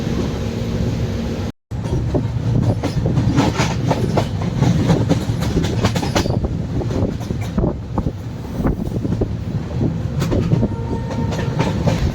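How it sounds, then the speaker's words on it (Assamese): A passenger train runs on its way to Tinsukia, its wheels beating a loud, continuous clickety-clack rhythm on the rails, with rumbling carriage noise and wind buffeting, briefly cutting out near the start. "ট্ৰেইনত গৈ আছোঁ"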